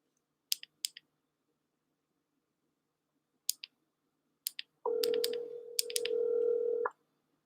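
A phone call to a real estate lead: a few faint scattered clicks of tapping, then a single steady ringback tone lasting about two seconds, quiet and alone.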